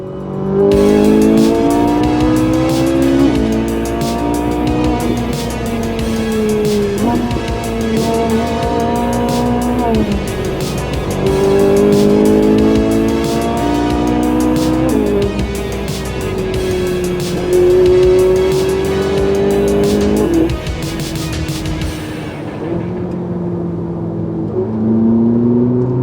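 A Ferrari 458 Italia with a 4.5-litre V8 drives mountain roads in the Vercors, its engine loud and close, repeatedly revving up through the gears, dropping on each shift and climbing again, with brief tyre noise.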